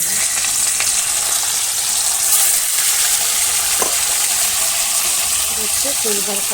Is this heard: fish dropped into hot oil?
yes